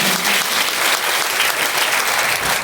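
A seated audience at a motivational business seminar bursts into loud, sustained applause, a dense continuous wash of many hands clapping with no voices over it.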